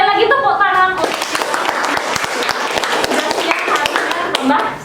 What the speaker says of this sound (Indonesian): Sekali lagi tepuk tangan untuk